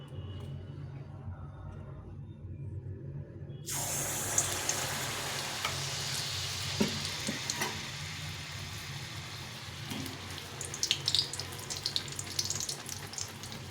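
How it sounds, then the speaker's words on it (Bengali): Malpua batter frying in hot oil over low heat, a steady soft bubbling and sizzling that swells when the batter goes in partway through and runs on continuously with a few faint clinks near the end. "তেলটা গরম হয়ে গেছে এখন এই মালপাগুলো ভেজে নেব"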